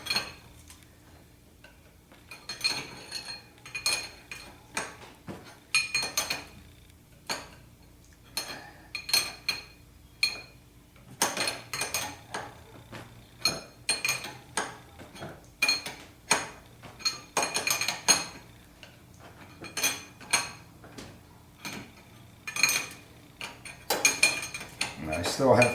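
Metallic clicks and clinks of a 7/8 inch wrench tightening an AC compressor line fitting near the header on a 1976 Corvette restomod, in short irregular bursts of ratcheting taps repeated throughout at close range.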